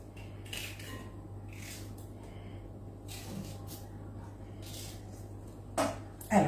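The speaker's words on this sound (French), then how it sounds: "Ça, je ne les jette pas, mais alors je les coupe." Kitchen knife work on vegetables for a home-cooked caponata, with soft scraping under a steady hum and a few sharper clinks of blade and utensils near the end, no voices.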